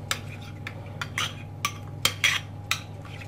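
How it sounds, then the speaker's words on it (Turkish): Chicken seasoned with red pepper flakes and cumin is stirred with a utensil in a pan, producing a close series of irregular metallic scrapes and clinks over a low steady hum. "Ve güzelce karıştırıyoruz."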